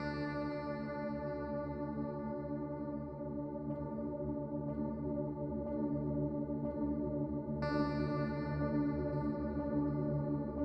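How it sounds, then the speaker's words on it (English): A sustained synth loop runs through a fixed pulse triangle black hole reverb effect, a dense, droning wash of tones that swells steadily, with a brighter layer re-entering partway through. "Fixed pulse triangle black hole reverb."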